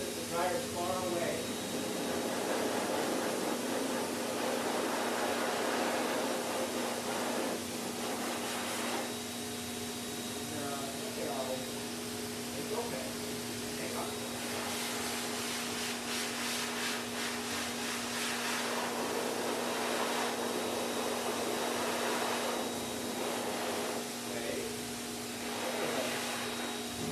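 Dog grooming dryer blowing a dog's hair, a steady loud hiss of rushing air with a constant whine, running without pause and shifting slightly in tone as the dryer moves.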